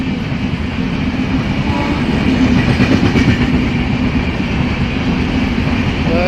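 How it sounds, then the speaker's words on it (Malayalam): Vivek Superfast Express, the Dibrugarh–Kanyakumari passenger train, passing close by, a loud continuous rumble of wheels and wagons with rhythmic rail clatter building in the middle and holding steady to the end. "Vivek super fast, Dibrugarh Kanyakumari Vivek express"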